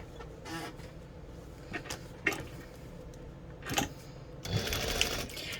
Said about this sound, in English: We're just going to backstitch, sew and pivot, sew it on the other side and backstitch here.